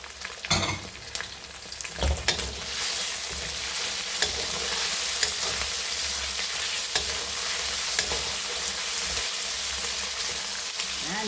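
Fried rice with shrimp sizzles loudly in a pan while being stirred and sautéed, with a steady hiss and intermittent scraping clatter of the utensil against the pan.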